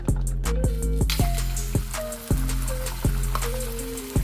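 Eggs sizzle in hot olive oil in a pan for Chinese fried rice, a steady crackling fry close by, with rhythmic scraping or tapping knocks and a tonal background hum running underneath.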